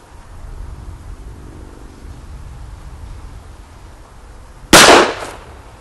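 A single sharp, loud gunshot from a CZ P-09 Duty pistol cracks out near the end, following several seconds of quiet outdoor background at a shooting range.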